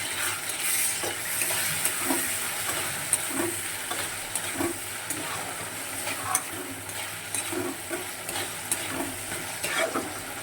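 Fish and onion fry with a steady sizzle, with ginger and cumin paste added, and occasional stirring clinks and scrapes in a pan, continuous and close, no voices.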